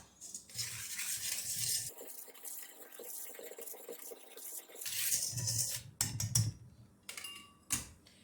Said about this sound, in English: 4 teaspoons of baking powder, a half a teaspoon of salt, and then we're going to whisk that together